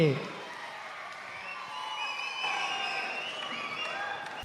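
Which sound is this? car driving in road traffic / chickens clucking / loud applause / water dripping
loud applause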